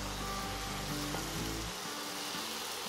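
Salsa poured into a pan of frying vegetables with pickled chiles and their vinegar, giving a loud, dense, steady sizzle with a low rumble that drops away partway through while the hissing continues.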